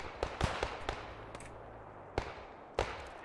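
MG42 machine gun fire in the WWII shooter Post Scriptum, a few scattered sharp bursts and single cracks at varying distances, some loud and close, others fainter, over a steady low background hum.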